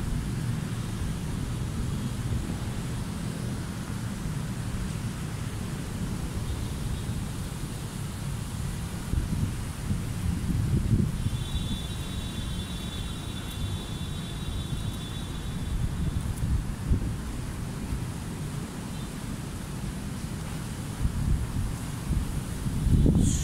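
Steady wind blowing outdoors, a low rumbling rush with gusts and some rustling, continuing without pause.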